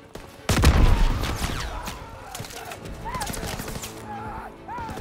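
Call of Duty WWII combat near a beach farmhouse: a heavy blast opens, followed by rattling machine-gun bursts and scattered explosions, loud and near, with shouted voices mixed in.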